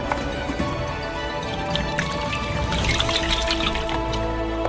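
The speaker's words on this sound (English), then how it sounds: "Pour in some oil." Cooking oil pours into a cauldron set up for cooking crayfish outdoors, a steady liquid trickle and dribble with faint drips, close and continuous under light background noise.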